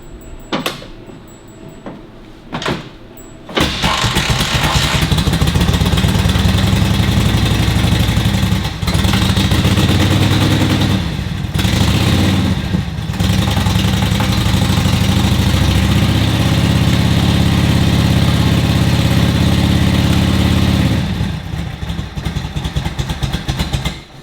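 A Harley-Davidson WLA motorcycle engine catches after a few short bursts, running rough on one cylinder before the second picks up. It then settles into a loud, steady idle that continues for about twenty seconds before a brief dip and a quieter close.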